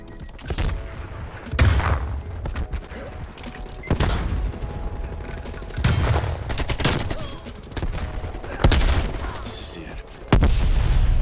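AK-47 firing in Call of Duty Cold War, with repeated loud bursts of automatic gunfire at a rhythm of roughly every two seconds, with speech in the background.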